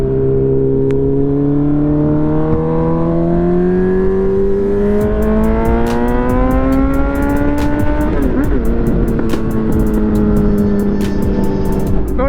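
A Honda CB1000R motorcycle's engine drones loudly and rises in pitch under acceleration, with rapid crackling exhaust pops breaking out in the second half.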